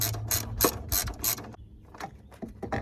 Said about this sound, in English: So let's grab a 10mm, tighten that up.